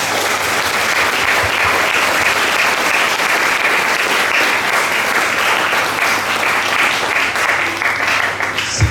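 A school audience bursts into sustained, loud applause at the official opening of a junior high poetry reading contest in Kupang, a thick unbroken wash of clapping from many hands lasting throughout.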